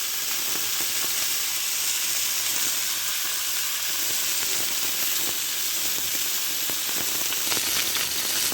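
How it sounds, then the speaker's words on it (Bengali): Fish pieces of tilapia, rohu and datna fry in hot oil in a kadai, giving a constant dense hiss and sizzle that runs on evenly without a break. "মাছগুলো আমি প্রথমে ভেজে নিচ্ছি"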